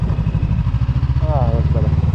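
Motorcycle engine running with a heavy pulsing vibration while riding on a rough road in Berlin, loud and close, with a voice speaking over it.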